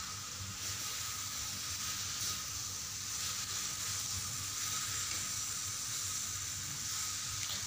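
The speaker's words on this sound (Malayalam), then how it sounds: "അതിലേക്ക് നേരത്തെ നമ്മൾ വേവിച്ച് വെച്ച ഈ ചിക്കൻ ഗിസാർഡ് ഇട്ട് കൊടുക്കുക എന്നിട്ട് ഇത് ശരിക്കൊന്ന് ഇളക്കി കൊടുക്കുക" Chicken gizzards sizzle and fry in a pan, being stirred, with continuous close hissing and occasional scraping of the spoon throughout, no talking.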